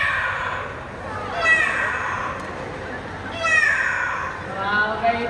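At a bird paradise animal show, a voice imitates a cat with two drawn-out, wavering meows a couple of seconds apart, over a murmuring audience.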